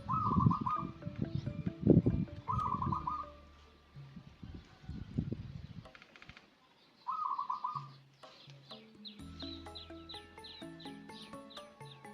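Zebra dove (perkutut) cooing outdoors near caged birds set out in the sun, with short repeated coo phrases at moderate distance and other bird calls chiming in toward the end.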